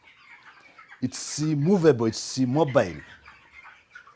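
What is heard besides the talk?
chickens clucking in a chicken house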